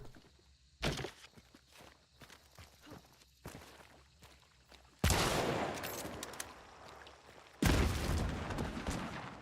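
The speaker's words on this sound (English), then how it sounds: "That is such a small explosion." A small portable powder keg detonates in the skateboarding video game Skate, giving two loud sudden bursts with a noisy rushing decay, following quieter clicks and thumps of game sounds.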